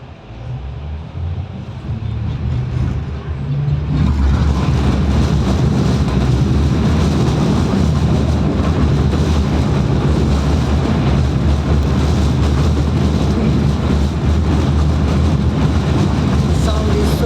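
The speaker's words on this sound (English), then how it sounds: "The sound is so annoying, the sound of the tram." A tram runs through a snowy Russian city in bitter winter cold near -30°C, a loud continuous rumble and rattle that swells after a few seconds and holds steady throughout, with no talk.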